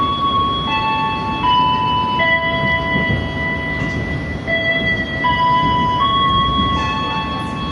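Taksaka executive train decelerating from about 52 km/h, a steady broadband rumble of rails and carriage overlaid with long sustained tonal whines that step in pitch, heard from inside and continuous throughout.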